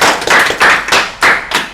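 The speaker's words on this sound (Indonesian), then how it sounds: "tepuk tangan Bang" Several loud, close claps of applause for a guest, four or five distinct bursts in quick succession, sharp and percussive with no talking.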